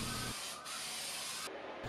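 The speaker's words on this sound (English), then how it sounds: "I grab my lacquer and I just spray a light coat on just so the stain isn't tacky." Spray gun laying a light coat of lacquer over stained wood on a dresser: a loud, continuous hiss that breaks off briefly twice, then resumes.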